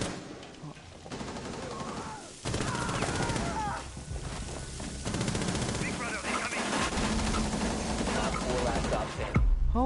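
Video game gunfire rattles out in rapid automatic bursts, loud and close, with several volleys across the stretch and excited voices under the shooting.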